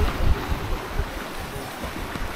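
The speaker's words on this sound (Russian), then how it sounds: "Вот океан." Atlantic Ocean waves off Tenerife wash in a steady, close rush of surf, fairly loud, with no voices.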